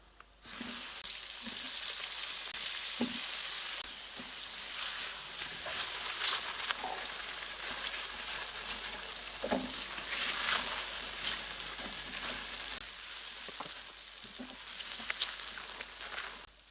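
Onions and potatoes fry in a pan for a chicken curry, giving a soft, continuous sizzle with scattered light knocks and scrapes from stirring. It is moderately faint, with no talking.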